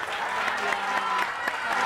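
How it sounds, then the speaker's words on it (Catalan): Studio audience applause on a Catalan local-TV spelling game show, a soft, steady patter of clapping that stays low and even for its short length with no voices over it. "li fem un aplaudiment"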